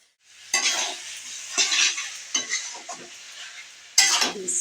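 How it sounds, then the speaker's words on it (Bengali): Spice paste (masala) frying in hot oil is stirred in a pan, with several distinct scraping strokes over a steady close sizzle. "আমি ভালো করে মশলাটা এখন ভাজবো তেলটা যখন একটু ছেড়ে যাবে ভালো করে ভেসে উঠবে ততক্ষণ আমি এখন মশলাটা নাড়তে থাকবো"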